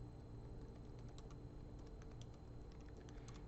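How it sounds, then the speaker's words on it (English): Computer keyboard typing in rapid, uneven bursts of light clicks, faint against a low room hum, with no talking. "just quickly run through, test my typing skills"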